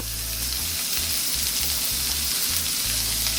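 About a tablespoon of herb butter sizzling in a hot pan alongside a Japanese A5 wagyu steak, a loud, dense, continuous hiss with a faint low hum underneath.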